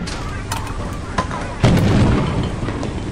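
A turret in the video game Lethal Company opens fire: a few scattered loud bursts, then a sustained, rumbling barrage of rapid shots close by.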